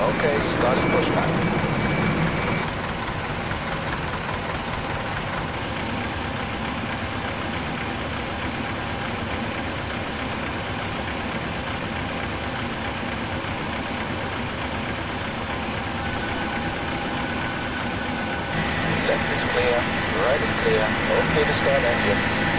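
A PMDG 737-800NGX in Microsoft Flight Simulator X pushing back from the gate, a steady engine and auxiliary drone humming throughout with tonal whines entering toward the end.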